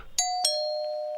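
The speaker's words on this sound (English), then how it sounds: "Ring the bell." A doorbell chimes twice in quick succession, two bright ding-dong strikes followed by a clear ringing tone that sustains and fades slowly, loud and close with no talking.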